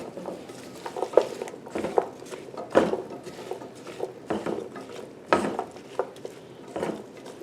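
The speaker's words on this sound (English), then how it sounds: "I'm gonna give it a stir." A spoon scrapes and knocks around a pot of hearty vegetable soup with crushed red pepper flakes, irregular clinks and soft stirring sounds, close and moderate, with no talk.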